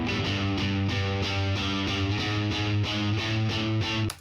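A live electric guitar part heard on its own: a driving, steadily strummed or picked chord pattern with bright, slightly distorted tone, repeating in even rhythmic pulses before cutting off abruptly.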